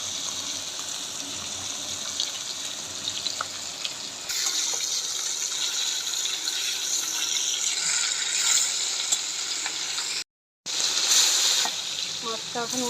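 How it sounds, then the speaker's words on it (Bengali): Fish crackles and sizzles in a pan of oil, a constant bright hiss with scattered pops and brief stirring sounds, loud and close, with a short dropout near the end. "মাছটা ভাজা হচ্ছে।"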